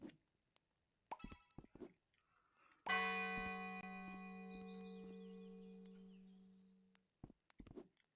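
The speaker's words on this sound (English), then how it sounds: "doorbell ring." A doorbell rings once with a clear bell-like tone that sustains and slowly fades over about four seconds, framed by faint clicks and taps before and after in an otherwise quiet room.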